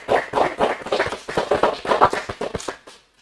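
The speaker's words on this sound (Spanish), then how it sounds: "Así que un fuerte aplauso." A short burst of audience applause, a crowd clapping in dense uneven rhythm for about three seconds before fading out quickly, close and fairly loud with no talk over it.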